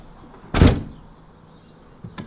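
A single solid car door thump on a Nissan 350Z, close and loud, followed by a faint rattle and a smaller knock near the end.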